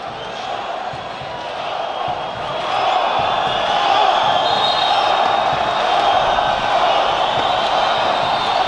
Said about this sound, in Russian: оживились опять болельщики.